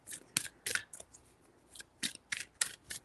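Tarot cards being shuffled by hand, several short crisp riffling bursts in an uneven rhythm, close and fairly quiet with no talk over them.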